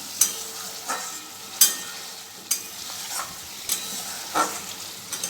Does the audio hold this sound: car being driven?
no